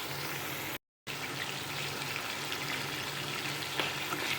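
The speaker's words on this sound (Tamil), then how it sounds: "இது எல்லாத்தையும் சேர்த்து ஒரு 2 நிமிஷம் இப்படி கிண்டி விடுவோம்" Green beans frying in a pan for poriyal, with salt added, give a steady broadband sizzle that runs continuously except for a short gap of silence near the start, with a light scrape of stirring late on and no talk.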